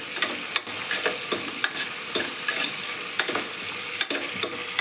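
Ginger garlic paste frying in oil for chicken biryani, a steady close sizzle with frequent stirring scrapes and clinks running throughout, no talk.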